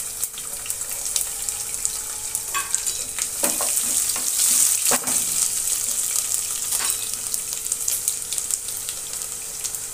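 Garlic sizzles and fries in hot mustard oil with cumin seeds, a dense steady crackle with occasional sharper pops and a stirring scrape close by.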